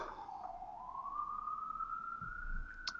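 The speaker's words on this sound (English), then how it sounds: "I'm hearing a siren in the background." A distant siren wails in a slow, rising and falling tone, faint under low background rumble.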